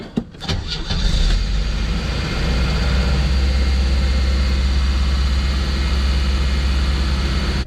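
A Chevy Vega engine cranks with a few sharp bursts, then fires up and settles into a loud, steady idle close by.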